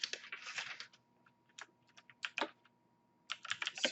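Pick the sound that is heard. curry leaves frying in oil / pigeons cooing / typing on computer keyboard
typing on computer keyboard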